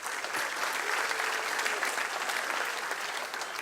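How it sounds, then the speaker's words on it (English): Steady crowd applause at an All Sports Association fish fry, honoring the Fort Walton Beach Vikings baseball team; dense, even clapping holds for several seconds without a break. "let's give the Fort Walton Beach Vikings a round of applause"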